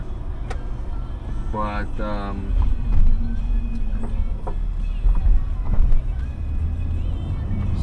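A Toyota Crown Royal Saloon GS131 Jubilee Edition with a supercharged 1GGZE engine cruising past 60 mph, giving a steady low engine and road rumble beneath someone talking throughout.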